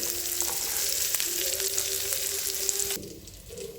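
Bitter gourd pieces fry in hot oil with a loud, dense, continuous sizzle being stirred up close; the frying noise drops away sharply near the end.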